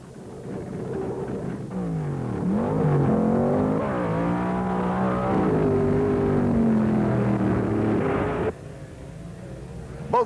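Two 1970s drag racing wheel-stander cars making a full run side by side, a loud sustained engine roar with rising, shifting pitch as they accelerate down the strip, then cutting off abruptly near the end.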